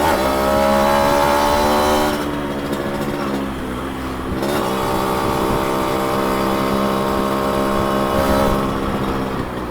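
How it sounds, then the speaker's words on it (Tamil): A customized, restored Yamaha RX 135 motorcycle exhaust drones steadily, rising and falling in pitch as the throttle opens and eases, loud and close throughout. "எக்ஸாஸ்ட் நோட் நல்லா கேட்கும்."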